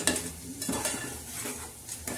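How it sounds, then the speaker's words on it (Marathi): Spiced black masala stirred in a hot frying pan, a spatula scraping and clinking against the metal in quick repeated strokes over a soft sizzle, close up and without speech. "थोडासा हा काळा मसाला आपण टाकणार आहोत बघा, अजून थोडासा तिखट व्हावा म्हणून, आणि असं छान असं पूर्ण हलवून घ्या"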